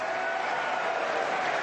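A snooker crowd at the World Championship applauds as a match on another table ends, a steady, fairly distant wash of clapping filling the hall throughout.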